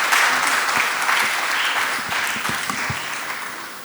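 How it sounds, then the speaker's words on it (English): An audience at a national healthcare rehabilitation conference in India applauds in a full, sustained round of clapping that slowly thins and softens toward the end. "A big round of applause and thank you very much for doing this"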